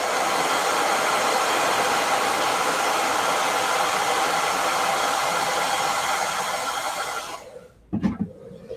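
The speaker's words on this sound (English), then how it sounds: "I'm going to hit this with a blow dryer" A blow dryer runs loud and steady at close range with a dense breathy whoosh, then cuts off near the end, followed by a brief clunk.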